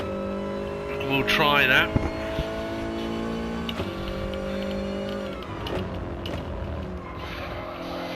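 A Toyota race car engine drones steadily at Laguna Seca with strong harmonic lines, pitch shifting as gears change and one brief rising rev burst near the start, while someone speaks briefly over the cabin noise.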